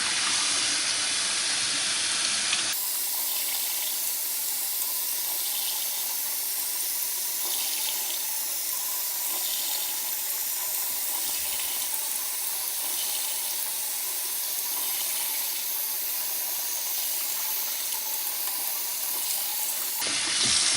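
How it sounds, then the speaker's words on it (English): A kitchen sink sprayer rinses cleaner out of a K&N air filter, a steady close rush of spraying water that runs nearly the whole time, starting and stopping abruptly. "the other great thing about a sink is you have a sprayer"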